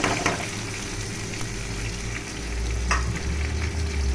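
Onion and garlic fry with a steady, close sizzle, joined by occasional stirring scrapes against the pan.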